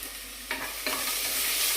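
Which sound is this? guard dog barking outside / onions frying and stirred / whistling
onions frying and stirred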